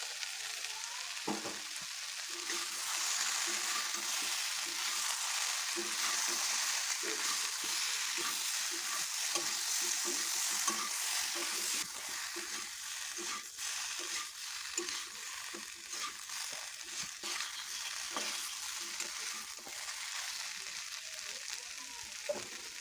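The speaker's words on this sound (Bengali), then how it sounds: "এখন আমি অ্যাড করে দিচ্ছি ভেজে রাখা ব্রকলিটা" Fried broccoli goes into a hot pan and is stirred, with a continuous bright sizzle of frying and repeated scraping and stirring sounds throughout, close and steady with no talking.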